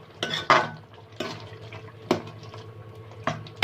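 Spoon knocking and scraping inside a cooking pot of white beans, several distinct clanks spaced irregularly, with a wet, watery stir beneath, close and moderately loud, no talking.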